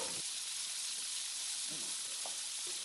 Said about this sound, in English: And we've got a nice sizzle.